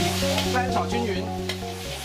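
Dry-pot cauliflower being stir-fried in a hot wok with sauce, chili, green garlic leaves and cumin, giving a loud, continuous sizzle broken by quick scraping tosses and a steady background hum, close up with no talking.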